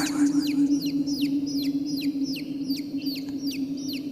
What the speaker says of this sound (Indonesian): suara anak ayam itu terdengar cukup jelas dari kejauhan.